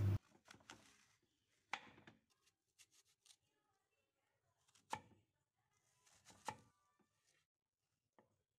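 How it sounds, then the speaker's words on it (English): A knife chops fruit into cubes on a cutting board in crisp, close, irregular knocks, with scattered quieter taps between louder strokes in an otherwise quiet setting. "Peel and cut the fruit into cubes."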